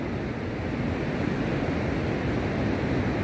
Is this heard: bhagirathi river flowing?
yes